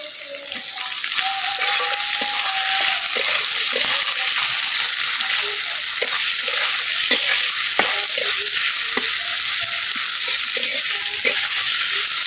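Two large chopped onions frying in a pan, a continuous close sizzle with scattered clicks and scrapes from a spatula stirring them, no voices.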